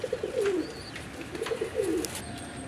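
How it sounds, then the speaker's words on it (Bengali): Desi pigeons feeding their chicks give soft, repeated low coos in short bursts close by, with faint background chirps and no talking. "আমরা এখানে আরেক জোড়া গুল্লা কবুতর দেখতেছি"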